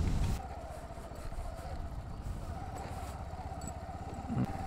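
A motorcycle riding along a sandy riverside road, its engine droning steadily and close throughout with a slight rise at the end.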